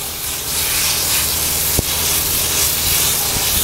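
Water sprays steadily through a Kenmore air conditioner being cleaned from the inside out, a loud continuous hissing rush with a brief click midway, close up and without talk.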